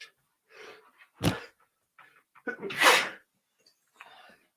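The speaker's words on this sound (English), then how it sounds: "Hold on, I'm going to sneeze." A single loud sneeze bursts out, close and sharp, followed by a second forceful sneeze-like exhale, with quiet breathy sounds between.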